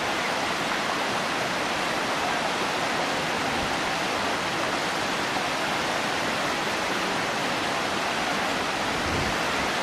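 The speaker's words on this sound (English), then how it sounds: "This is a place where a thermal stream meets a river" Thermal stream pouring into a river at the Boiling River in Yellowstone, heard as a steady, even rush of flowing water, close and constant, with no voices.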